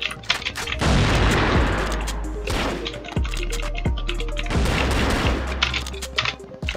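Loud bursts of rapid gunfire in the video game CrossFire crack repeatedly with sharp blasts and echoing tails, weapons firing at close range.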